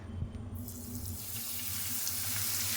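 Vermicelli frying in hot oil in a pan over a low flame: a brief start, then a bright, steady sizzling hiss that swells and holds close and loud.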